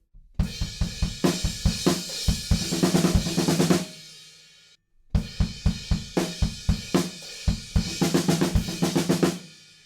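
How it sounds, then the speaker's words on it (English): A drum fill on a rock kit from a song is played twice, each pass a building run of kick, snare and tom hits rising in density before cutting off, loud and close with no voices. "There's a fill halfway through that section"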